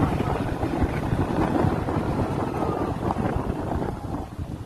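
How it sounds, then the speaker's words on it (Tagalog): Strong wind roaring steadily into the microphone on a road from Abra de Ilog to Puerto Galera, a dense continuous rumble with no talking. "Super lakas ng ang hangin."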